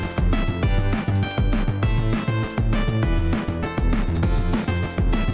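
Full indie game song with melody, chords and a bass line playing together, dense and loud throughout with steady rhythmic pulses and a strong low end, no voices.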